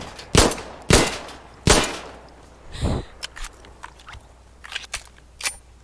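Tariq handgun firing in the video game Insurgency: Sandstorm, three sharp, loud single shots in the first two seconds, then lighter clicks and handling noises from the pistol.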